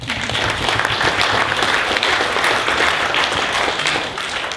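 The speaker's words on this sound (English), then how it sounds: "I shall report your applause back to Gavin" Loud, dense applause fills a hall at a Luton TUC anti-austerity rally after a speech by an MP, staying steady and close throughout before easing slightly at the end.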